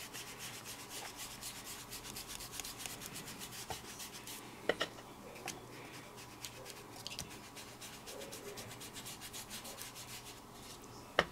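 An ink-blending tool rubs ink over paper treated with embossing powder, making a soft, steady, scratchy swishing of quick repeated strokes, faint and close, with no talking.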